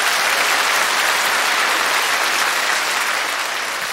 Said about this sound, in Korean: 여러분 큰 박수로 맞이해 주시면 대단히 고맙겠습니다.